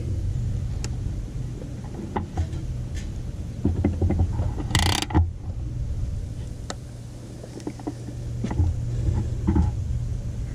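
A ratchet tightens bolts on the upper control arm of a 2011-2014 Dodge Charger Pursuit, quick clicking bursts repeating close by over a low rumble, with a brief louder clatter midway.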